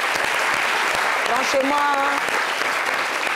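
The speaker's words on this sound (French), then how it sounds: "On peut l'applaudir." Studio audience applauding a man on a French-language talk show, the clapping broad and steady throughout, with a voice speaking over it.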